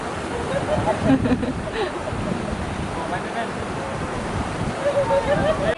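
Mountain stream water at Khao Chong Lom in Nakhon Nayok, a steady rushing flow with wind buffeting the microphone and a voice talking faintly over it.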